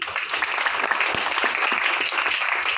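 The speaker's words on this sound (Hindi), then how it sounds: "अपने लिए जोरदार ताली मारिए।" An audience claps hard and steadily at a Meta Force meet-up held in 3P Mall, Maharajganj, a dense, even wash of many hands lasting the whole moment with no pause.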